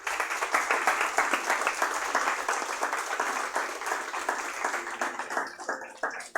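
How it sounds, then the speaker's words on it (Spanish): A church congregation claps together in a warm, continuous round of applause that tapers off toward the end, with a few scattered claps trailing. "Dé un aplauso."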